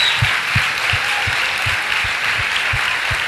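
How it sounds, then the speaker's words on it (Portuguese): Sustained, even applause from a church congregation fills the space, with a regular low thumping beat running underneath. "Queria que vocês, que todos, a igreja pudesse aplaudir a vida deles."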